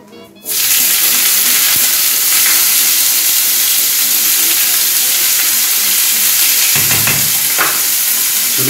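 Onions dropped into hot olive oil in a saucepan burst into a loud, steady sizzle that holds for several seconds, with brief stirring clatter near the end and no talking.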